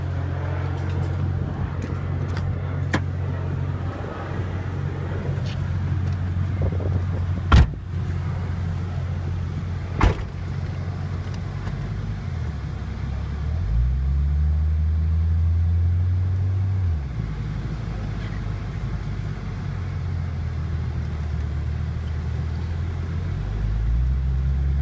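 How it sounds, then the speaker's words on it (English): A 1988 Toyota Supra turbo driving, its steady engine rumble and road noise continuous throughout, with a couple of sharp knocks and a rising engine swell midway. "Let's take her for a spin."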